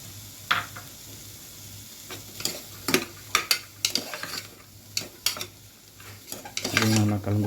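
Green peas and mixed vegetables stirred in a pan for soup: a series of irregular spoon knocks and scrapes against the metal over a faint steady hum, close by, ending in a louder clattering stir. No one speaks.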